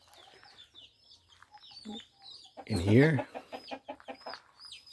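Rooster and hens on a farm, with soft scattered clucks and chirps building to one loud, close call partway through, followed by more clucking, while a person says a word.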